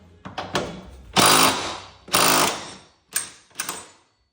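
An impact power tool bursts in short loud rattling runs on the lift bolts of a 2024 Subaru Crosstrek Wilderness during a lift install: two brief taps, two longer hammering bursts, then two quick taps, close and alone.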